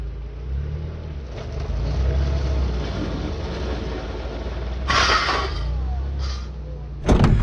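A winch pulling a UAZ Bukhanka van off-road, a steady low droning engine and winch rumble throughout, with a brief rattle and a sharp clunk near the end.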